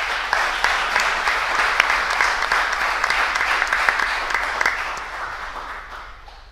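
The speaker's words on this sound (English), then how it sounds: "I would like to invite you all to applaud the panelists that we've had for the great presentations." A conference audience applauds the panelists at the close of a hydrogen storage and distribution panel session; dense, sustained clapping fills the room and tapers off near the end.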